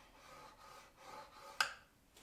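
A few soft, rhythmic scraping strokes of a scoring tool drawn along a score line on paper card stock, close and quiet, ending with a brief sharper tick.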